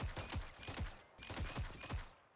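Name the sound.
Iron Man style beam being fired in Roblox video game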